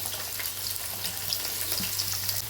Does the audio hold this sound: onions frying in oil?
yes